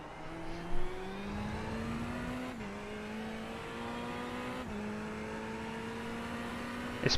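A Porsche race car engine in iRacing at Monza, a steady high drone rising slowly in pitch through each gear, with two quick upshifts and no talking.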